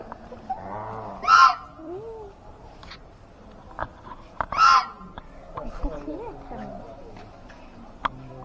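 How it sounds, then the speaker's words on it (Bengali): Two swans kept at a temple courtyard pond call out in two loud, honking bursts a few seconds apart, with scattered background noise and faint voices between them. "দুটো হাঁস না, রাজহাঁস রাখা আছে।"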